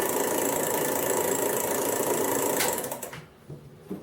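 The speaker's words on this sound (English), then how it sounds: "That clicking sound is the clutch." The clutch of a 1917 Buick starter/generator clicks rapidly as the generator spins while its drive shaft stays still, a close steady rattling whir that winds down and stops near the end.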